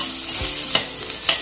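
Finely chopped onions sautéing in oil in a kadai, a steady close sizzle with a few scraping stirs of a spoon against the pan.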